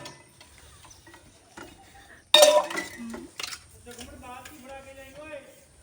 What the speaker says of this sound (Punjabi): ਭਾਂਡੇ ਬਹੁਤ ਹੀ ਢੇਰ ਲੱਗਿਆ ਪਿਆ ਭਾਂਡਿਆਂ ਦਾ